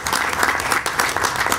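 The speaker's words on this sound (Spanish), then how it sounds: "voy a pedir un aplauso para el comandante Guillén" Applause from the audience at a decentralized citizen security committee meeting, dense steady clapping throughout with a faint voice underneath.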